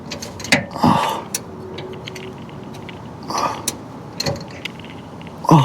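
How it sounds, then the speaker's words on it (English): Wrench tightening the bolt on a car's rear roll bar bushing, heard as scattered close ratcheting clicks and metallic creaks, with a few louder clunks spaced irregularly across the stretch and no speech. "I just keep tightening until it clicks."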